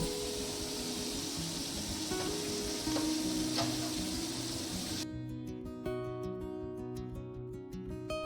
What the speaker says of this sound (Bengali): চিংড়ি মাছগুলো এখন ভাজা চলছে